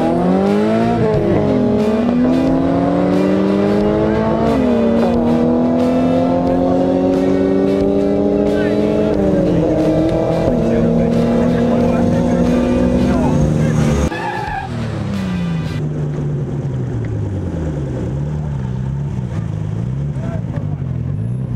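Modified high-power Nissan drag racing cars scream through rising gear pulls, engines revving up and shifting repeatedly, loud and close, then dropping to a rougher lower drone.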